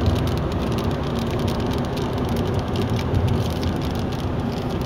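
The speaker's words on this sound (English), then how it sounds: "it's just starting to rain here" Rain patters steadily on a moving car, a dense hiss of drops layered over the low rumble of the vehicle on the road, constant and close with no talking.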